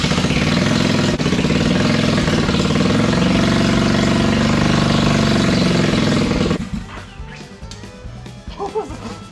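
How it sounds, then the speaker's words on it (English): A rebuilt Bombadil 500 engine runs loud and steady on ether for about six seconds, then cuts out, leaving scattered clanks and faint background noise. "So we got the Bombadil 500 running, or she runs with ether"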